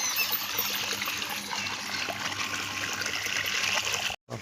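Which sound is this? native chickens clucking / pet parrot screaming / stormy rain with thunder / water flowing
water flowing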